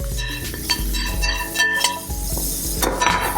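Zucchini noodles stirred and sizzling in a hot pan with garlic, with steady frying hiss and scraping stir strokes near and loud, pan and utensil clatter mixed in.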